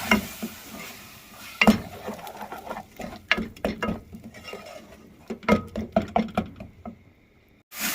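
Grated tomatoes frying in a pan for a potato and egg curry, with irregular sizzling, patter and sharp stirring knocks from a spoon up close over about eight seconds.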